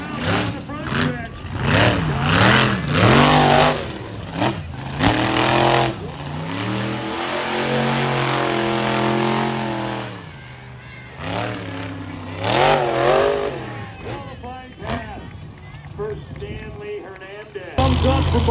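A monster truck at a Monster X Tour event in Granite City, Illinois, spins around the front stretch, its engine revving and surging in loud rising and falling waves while an announcer talks over it.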